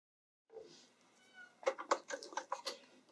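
Cat meowing near the microphone in a quiet room, a soft short call followed by a quick run of chattering, insistent meows.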